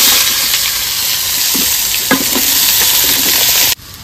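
Mixed Bengali vegetables fry loudly in a pan with a constant, close sizzle, and the stirring adds scrapes and knocks before the sound drops off sharply near the end.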